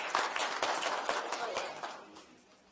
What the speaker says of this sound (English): Okay, give a round of applause to them.